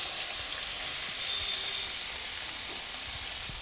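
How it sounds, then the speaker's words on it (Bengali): Marinated mushroom frying in hot oil, a loud continuous hiss and crackle of sizzling close by, steady throughout with faint scattered pops underneath. "মাশরুমটি তিনি তেলে দিয়ে দিলেন এবং মাশরুমটি এবার ভেজে নিচ্ছেন"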